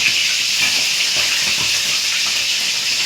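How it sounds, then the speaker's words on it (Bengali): Pieces of beef roast fry in a hot kadai, giving off a loud, steady, close hiss of sizzling oil throughout, no voices. "এই যে আমি রোস্ট কড়াইতে দিয়ে দিলাম।"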